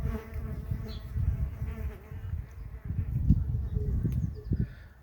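Bees buzzing around a bee hotel in a garden, a steady low droning hum that swells and fades as insects fly close, with a faint voice in the background.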